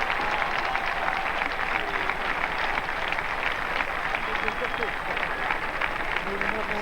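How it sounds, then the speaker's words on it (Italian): Dense, steady applause from the grandstand crowd at the CSIO Roma 2007 show-jumping grand prix, a standing ovation for rider John Whittaker and his horse Peppermill, a loud continuous wash of clapping with an announcer's voice over it. "Standing ovation for you, John Whittaker."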